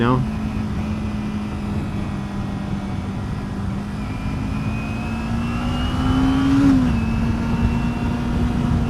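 Motorcycle engine held at high RPM in a low gear, engine braking while riding canyon roads; a steady, loud drone with a brief rise in pitch near the end, continuous throughout under wind noise.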